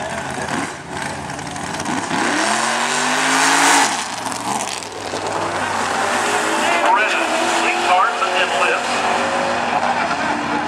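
A Mustang GT with a 222-cubic-inch modular V8 drag racing on an eighth-mile strip, engine climbing loudly through rising gear sweeps then carrying on at a roar, with a commentator talking over it.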